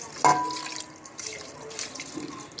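Water splashes into a cooking pot holding beef pieces and tomatoes for palak gosht, starting with a sharp splash and then settling into a softer, steady running pour.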